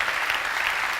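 An audience at an awards ceremony claps in a steady, dense burst of applause, close and loud, with no pauses and no talk.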